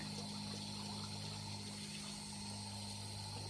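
Fresh water running in a garden, a low, constant rushing with a pump-like steady hum, faint and continuous without any speech over it.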